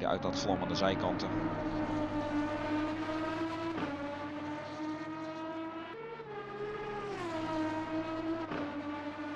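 Aston Martin Vantage GT3 V12 racing engine in a sim racing game on the Nordschleife, a loud sustained harmonic roar that rises, drops under braking and climbs again through the gears.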